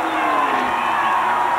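A crowd cheers and roars along the main straightaway during the 1992 Winston 500 NASCAR race, a dense, steady wall of noise that holds at full loudness throughout the short stretch.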